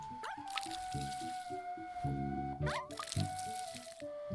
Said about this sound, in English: We can water some of these, which still have some pollen.